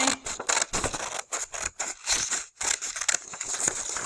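Scissors snip through paper in short irregular cuts along a dotted line, a steady run of close, crisp snips with brief pauses and no talking.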